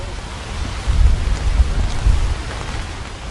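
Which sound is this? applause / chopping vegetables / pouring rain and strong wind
pouring rain and strong wind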